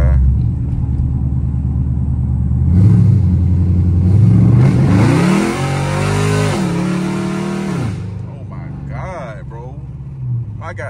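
A Dodge Charger SRT8 V8 during a hard acceleration pull: a loud, close engine roar climbing steeply in pitch, holding, then dropping and easing off, with a voice over it.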